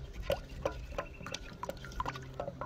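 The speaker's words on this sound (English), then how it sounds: "We'll give it a bit of a splash around, bit of a stir up." Chicken pieces get stirred and splashed around in liquid, with a series of wet, dripping plops at an uneven, roughly half-second rhythm, close by and fairly quiet.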